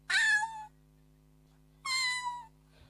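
A man at an Isra Mi'raj religious lecture vocally imitates a tomcat: two drawn-out, loud meows separated by a pause of over a second, heard clearly with no other sounds.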